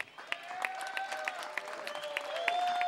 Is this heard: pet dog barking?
no